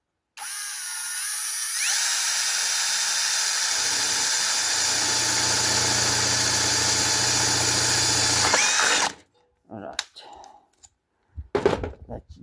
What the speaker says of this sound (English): So drill the pilot hole.